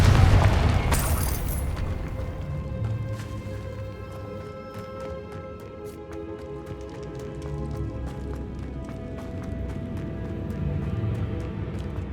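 A Confringo blasting spell goes off in the Hogwarts Legacy video game, with a loud boom up front that rolls into a long rumbling decay under steady ambient game sound, with no talking.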